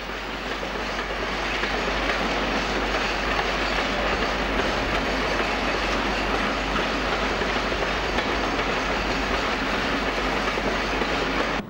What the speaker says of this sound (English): a suburban train of Class 306 Shenfield stock is departing